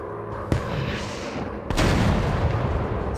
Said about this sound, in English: We're going to use our rocket launcher.